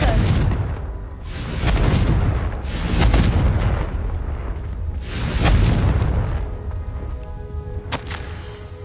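A Confringo blasting curse from the Hogwarts Legacy video game erupts in a series of loud, booming explosions that rise and fall over several seconds, with a final sharp crack near the end.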